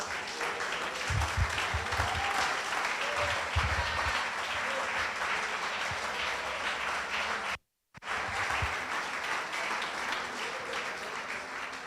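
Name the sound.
church congregation applause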